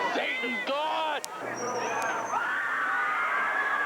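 Crowd of concert-goers in Wheeling, West Virginia, shouting and yelling, with several voices rising in loud overlapping calls and cries over a steady hubbub of chatter.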